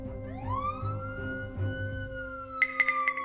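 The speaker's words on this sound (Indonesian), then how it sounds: "Apa itu mobil polisi?" Police car siren wailing, rising in pitch and holding a steady tone as if passing nearby, followed by a few sharp clattering knocks at the end.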